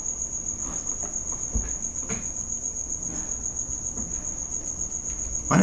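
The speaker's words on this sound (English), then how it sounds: "the cricket is kind of loud" A cricket indoors chirps loudly and without pause, a piercing high trill holding steady through the whole stretch, with faint game sounds and light thumps beneath it.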